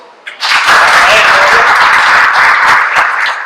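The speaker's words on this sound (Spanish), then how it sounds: "les pido un aplauso" An audience applauds at the close of an introductory talk for a political training course, a dense, steady wash of clapping that swells quickly and holds for about three seconds.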